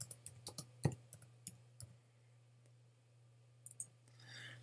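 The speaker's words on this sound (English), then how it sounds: "So we're going to go ahead and type in dog bowl." Computer keyboard typing in a quiet room: a quick burst of separate key clicks, then a pause and a few more taps, with a steady low hum underneath.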